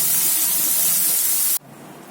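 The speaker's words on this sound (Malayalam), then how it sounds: "ഇതിപ്പം ഉള്ളി ഒന്ന് ശകലം നന്നായിട്ട് വഴഞ്ഞിട്ടുണ്ട്" Chopped onions with asafoetida and ginger sizzle in a hot pan, a loud, even hiss that stops abruptly near the end, leaving a faint background.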